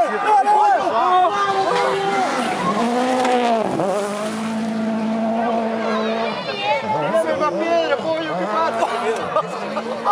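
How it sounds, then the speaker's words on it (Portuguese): A rally car engine at WRC Argentina 2011 accelerates with rising, wavering pitch and some tire noise, under continuous excited talking from a crowd or commentators. "Dá pra escutar o barulho do motor acelerando ali."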